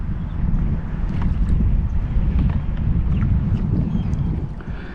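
Strong wind buffets the microphone steadily while kayak fishing on shallow water near Venice, Florida, giving a loud, continuous low roar with no speech.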